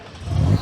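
A classic Ford Escort with a Simpson exhaust and twin Weber carburetors revs briefly at a car show, a short, loud, low engine swell rising and falling within under a second.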